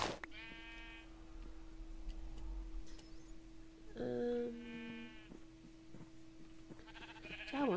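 Sheep bleating in the Minecraft video game, several separate bleats spread across the clip over a steady ticking background hum, with no talking.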